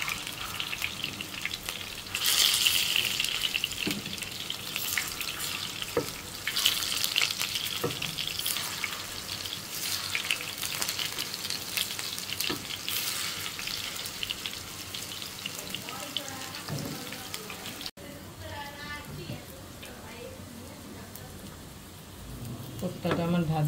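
Kofta fries in hot oil for a Bengali rui fish head muri ghonto, giving a steady close crackling sizzle with occasional louder pops and stirring scrapes, easing slightly toward the end.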